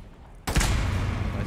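A loud burst of gunfire in the Rainbow Six Siege game erupts after a quiet moment, a sharp impact followed by a dense, sustained roar of shots and echoing noise.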